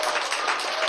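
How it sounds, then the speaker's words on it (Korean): A live audience claps hard and fast in a lecture hall, a dense continuous wash of many hands striking together at close range with no gaps. "이왕 박수 칠 바에는"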